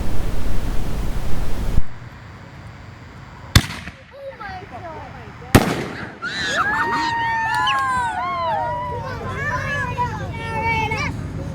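An Exterminator canister firework shell bursting into a multicolored peony to brocade: a hiss of launch, two sharp, loud bangs, then crackling and rustling trails, with a crowd cheering and whooping throughout.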